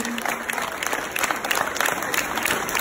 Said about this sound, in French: Merci au public, encore une fois, un tonnerre d'applaudissements, s'il vous plaît.